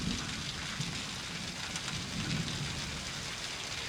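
Steady rain pours with low thunder rumbling underneath in a PS5 session of the video game Season: A Letter to the Future, a dense, continuous wash of water with no voices over it.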